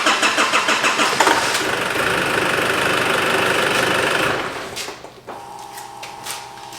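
An Isuzu-built engine in a Holden cranks and catches, running loud and rough for several seconds before settling into a quieter, steady idle; the engine is known for random stalling and oil pressure trouble.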